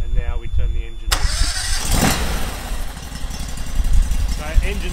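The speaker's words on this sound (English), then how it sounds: "And now we turn the engine on." A Panther water jetter's engine cranks and catches at about one second, then runs on at a steady, loud idle. Talking is heard over it before and during the start.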